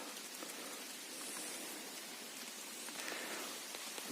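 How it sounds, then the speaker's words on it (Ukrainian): Steady rain patters down on leaves and ground in a forest in northern Khmelnytskyi region, Ukraine, in May, a dense, even hiss with scattered drops, continuous and fairly close, with no voices. "Пустився дощ, дощ крапає."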